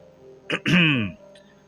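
A man gives a light cough, clearing his throat in a Hindi horror audio drama: one short, close, voiced rasp lasting under a second, with quiet background before and after.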